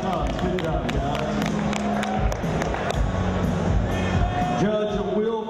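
Crowd at an amateur MMA event applauding and cheering after a three-round fight goes the distance, a steady roar of clapping and voices beneath a loud announcer talking over the arena sound system.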